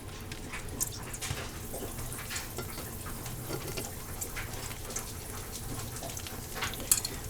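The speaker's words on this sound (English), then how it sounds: "Okay, it's getting hot. So once your oil's hot, see it bubbling?" Hot oil sizzling and bubbling in a pan before bok choy is added, a steady fizzing crackle with scattered pops, moderately close and continuous, with no talking.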